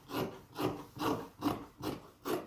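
Dress fabric is cut in six regular, soft rasping strokes about half a second apart, close and quiet, with no talking.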